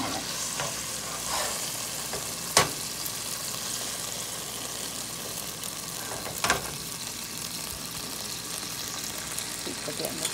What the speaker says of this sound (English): tilt your pan once the butter is melted to continuously baste your steak in this for 9 minutes